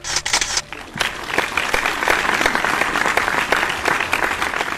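Hearty applause from an audience at a Buddhist community gathering at Ekta Buddha Vihar, a dense, steady clatter of clapping that fills the whole stretch at close range.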